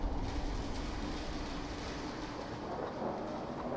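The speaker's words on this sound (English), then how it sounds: "Hurry up, there's a storm coming." Thunderstorm in the video game Fallout 4, a dense, heavy rumble with rain-like hiss that stays loud and steady from start to finish, with no voices.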